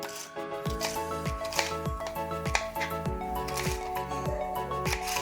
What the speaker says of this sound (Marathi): प्रथम आपण भेंड्या ह्या कापून घेऊया